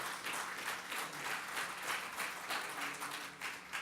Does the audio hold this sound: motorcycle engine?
no